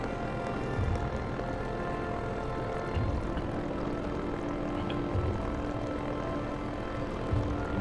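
A ship's engines during a landing in the game Orebound make a steady droning hum with a low rumble, holding constant throughout.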